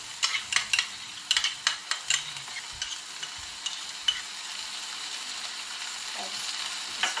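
Tomato puree and ketchup go into a hot frying pan, where they sizzle steadily under a series of close, rhythmic scraping stirs that fade into a continuous fry.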